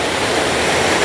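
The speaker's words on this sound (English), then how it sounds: "this is the uppermost part of the waterfall" The three-tier waterfall at Dabanggre village in West Garo Hills, Meghalaya, rushes in a dense, steady roar of falling water, loud and close for about a second with no voices.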